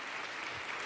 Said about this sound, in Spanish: Vamos a darle un fuerte aplauso al pastor en esta noche